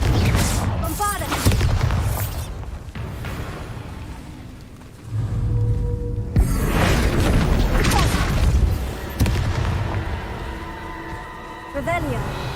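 Explosive Confringo and Bombarda spells in Hogwarts Legacy go off in booming blasts with crackling bursts, loud and repeated, while a person talks over the combat.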